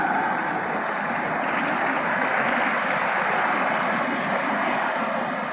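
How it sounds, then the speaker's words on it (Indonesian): Applause from the audience at the 48th Muhammadiyah congress in Surakarta, a broad continuous roar of clapping from a large hall crowd that stays loud and even throughout, with no voice above it. "Ini saya lihat yang tepuk tangan tidak begitu banyak"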